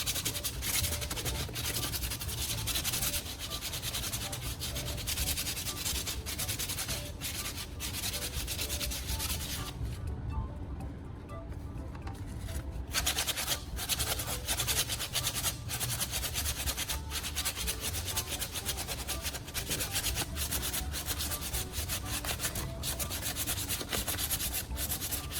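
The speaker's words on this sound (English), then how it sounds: "I'm sanding until there are no bumps or rough patches" Steady, continuous sanding of a repaired plastic surface, a dense abrasive rubbing that runs without a break, close and fairly loud, with no voices.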